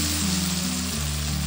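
Black cumin and ground mustard sizzle steadily in hot oil during tempering, a continuous close frying hiss with no talk over it.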